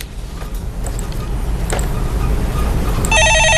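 A studio telephone rings with a bright electronic trill that starts near the end, loud and clear over a steady background hum, with a few faint beeps before it.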